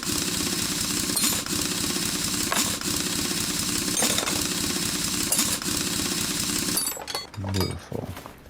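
A pneumatic impact wrench in the Car Mechanic Simulator 2021 game rattles loudly and continuously while car tires come off, with a few short bursts before it cuts out near the end, followed by clunking.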